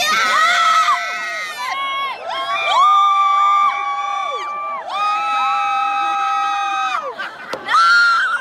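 Crowd of people on shore and in the water cheering, with loud overlapping high-pitched shouts, whoops and screams rising and falling in bursts throughout.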